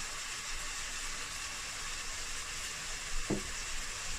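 Venison ragu with cloves, cinnamon and thyme sizzles steadily in a pan, a constant close frying hiss with one brief scrape of stirring near the end.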